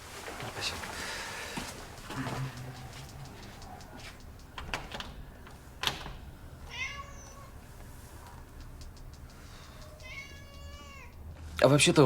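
A cat meows a couple of times, short and close, amid quiet room noise and faint rustling.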